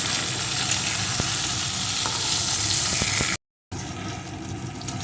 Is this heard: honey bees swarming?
no